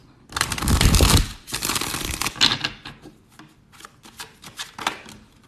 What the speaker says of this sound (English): So I'm gonna do that shuffle again with the intention that I'm not doing any reversals.